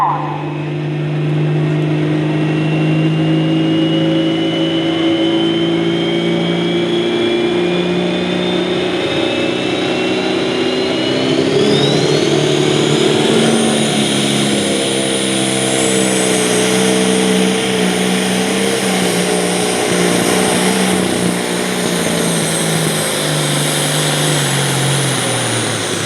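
A John Deere 8360 tractor nicknamed the Tomahawk roars at full power during a truck and tractor pull in Coshocton, Ohio, a loud sustained engine drone with a rising high-pitched whine, continuous and close.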